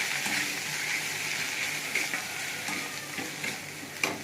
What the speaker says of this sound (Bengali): একটু নুন দেবো, একটু কষে নেবো ভালো করে